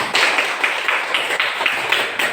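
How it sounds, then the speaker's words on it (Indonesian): A school class claps in a steady rhythm, sharp evenly spaced rounds of hand claps repeating about every half second, close and fairly loud. "Tepuk tangan."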